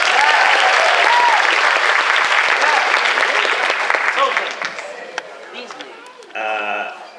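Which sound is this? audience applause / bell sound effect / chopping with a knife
audience applause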